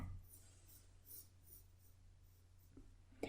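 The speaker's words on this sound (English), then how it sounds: "you can see that I'm drawing lightly because I might want to rub it out" A pencil drawing lightly on paper while a portrait's hair and ears are sketched: faint, soft scratching strokes repeat close by in a quiet room.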